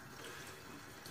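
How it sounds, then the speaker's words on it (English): Tap water runs steadily in a continuous close, even hiss, wetting a shaving brush at the sink during a wet shave, with no voices over it. "Okay, let me wet the brush."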